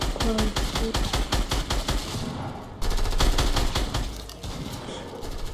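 Rapid automatic gunfire in a battle royale video game, dense repeated shots in fast bursts that run nearly nonstop and loud throughout, with a brief break in the middle before firing resumes.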